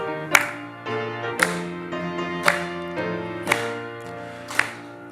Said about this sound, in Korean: 우리 힘차게 박수치며 찬양하겠습니다